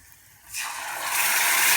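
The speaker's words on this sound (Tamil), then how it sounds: "அதனால கொஞ்சம் தண்ணி விடுறேன்." Water is poured into mashed karunai kizhangu (elephant foot yam) in a cooking pan, a close, steady gushing pour that starts suddenly and grows slightly louder, with no talk.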